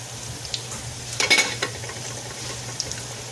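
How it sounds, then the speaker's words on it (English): Wonton-wrapped jalapeno poppers frying in oil in a wok, with a soft steady sizzle and a brief burst of louder crackling and spatter partway through, no talking. "And you're just going to fry them up until they're brown."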